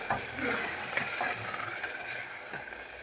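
Ground masala paste stirred into partly cooked vegetables in a pan for vegetable kuruma, with soft sizzling and a few scraping spoon strokes over a steady frying hiss.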